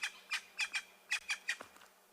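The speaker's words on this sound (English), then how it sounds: "A lot of bird calls at the back here." A francolin calls among dusk safari birds in a rapid series of harsh, raspy squawks, about eight bursts in quick rhythm, fairly faint and distant against quiet surroundings.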